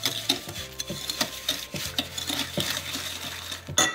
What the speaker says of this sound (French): Avec un fouet, par exemple, on mélange comme ça.